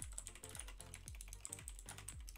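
Close, quiet typing on a computer keyboard: a steady run of crisp key clicks with small rhythmic bursts and no voice over them.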